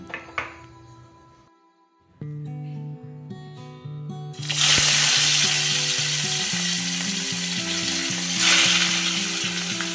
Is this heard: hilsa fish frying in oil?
yes